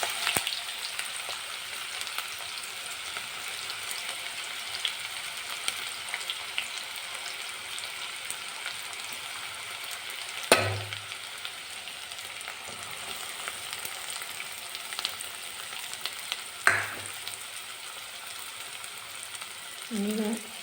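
Finely chopped onions fry in hot oil with cumin seeds for a Marathi mixed-vegetable bhaji, a steady crackling sizzle with a couple of louder clanks from a utensil against the pan.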